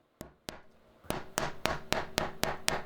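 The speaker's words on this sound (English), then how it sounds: "And I'm doing it with a hammer." A hammer taps precision fretwork: two sharp knocks, a brief pause, then a steady run of about seven crisp, close, evenly spaced blows on wood, each with a short rasping decay.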